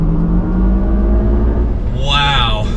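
A 2022 GMC Hummer EV Edition 1 crew cab, a 1,000-horsepower electric pickup, accelerates hard while merging into traffic, with a loud close road roar and a rising electric whine building toward the end.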